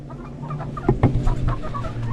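Chickens cluck nearby in short, overlapping calls over a low background hum.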